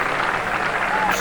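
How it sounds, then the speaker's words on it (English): A crowd cheers and applauds in a steady broadband wash at a 1990 pro bowling doubles match, the Showboat Doubles Classic, with a commentator talking over the noise through the brief moment. "they're cheering in Coral Springs, Florida"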